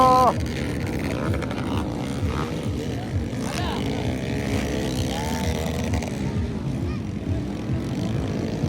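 Underbone motorcycles race at an outdoor motocross event in Valencia City, Bukidnon, their engines droning loud and continuous with rising and falling pitch as bikes pass, under excited commentary.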